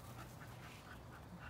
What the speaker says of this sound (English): so she's still yelping